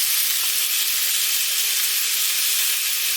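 Lamb chops sear in a hot pan, giving a loud, continuous, steady sizzle and hiss that fills the whole stretch with no talking.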